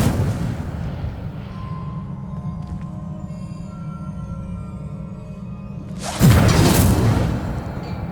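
A fire spell cast in Hogwarts Legacy bursts out as a loud, roaring whoosh near the end, following a long stretch of low ambient rumble and faint tones.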